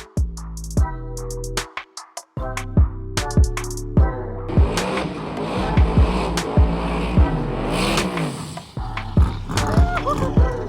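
Cars roll into the pits at a drag racing event, with close engine revs rising and falling amid sharp clunks and mechanical clatter, broken by brief gaps and busy throughout.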